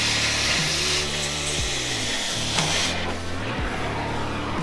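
A cutting torch roars in a steady broadband hiss as it burns off a stubborn bolt on a Ford Bronco II suspension, with music playing alongside.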